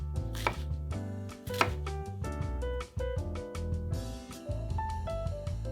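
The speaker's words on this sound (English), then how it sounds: "Chop the onion into small pieces." Onion being chopped into small pieces on a board, a quick run of close, crisp knife strikes in uneven rhythm, heard alone.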